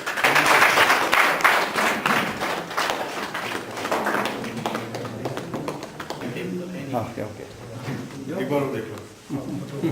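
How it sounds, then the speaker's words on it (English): Audience clapping at a school ceremony: a dense burst of claps for the first few seconds that thins out, with voices talking over and after it. "Let us clap, please."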